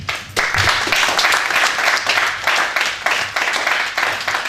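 Church congregation applauding during a French-language service, loud, dense clapping from many hands that swells and pulses steadily for several seconds, with a few faint voices mixed in.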